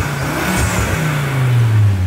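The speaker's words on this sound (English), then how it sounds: "Oh, you can hear the turbo." An ex-police Volvo T5 engine revs up close and loud, the turbo audible as it climbs in pitch over about two seconds, with no talking.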